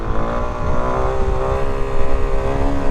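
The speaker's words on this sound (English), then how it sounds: "can hear the bike is almost redlining out." A Suzuki DR-Z400SM supermoto engine holding a steady high-pitched whine close to redline during a wheelie, loud and continuous for the whole stretch, with no speech.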